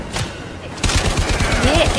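Bursts of automatic gunfire in Warframe, a rapid rattling run of shots that kicks in loudly after a quieter start and keeps going to the end.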